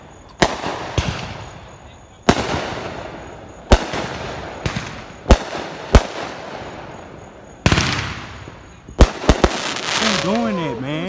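Fireworks exploding nearby at a street gathering, heard as a series of sharp, loud bangs at irregular intervals, with crackling and whistles near the end and voices in the background.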